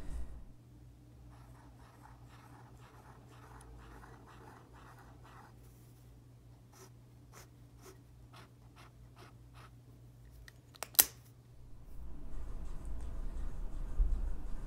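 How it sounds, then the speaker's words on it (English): A fountain pen writing on paper at an angle, soft close scratching strokes in short repeated bursts over a low steady hum, and a sharp knock near the end as the room noise rises. "these 3 fingers on your hand are going to be what's holding the fountain pen. And you're going to write at an angle."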